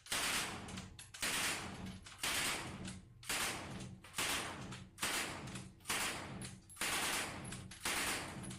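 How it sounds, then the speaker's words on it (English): A STEN submachine gun fires in a live fire test: about nine sharp, loud shots or short bursts at a fairly regular pace of roughly one per second, close by, with no talking. "Let's proceed to the live fire test."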